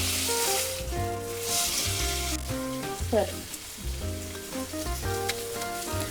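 Ribeye steak sizzles loudly in a hot pan, a continuous frying hiss with a few sharper crackles and a brief scrape partway through, with no voices.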